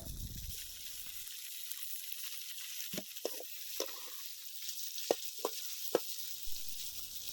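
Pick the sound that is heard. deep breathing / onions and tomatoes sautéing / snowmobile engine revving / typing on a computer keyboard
onions and tomatoes sautéing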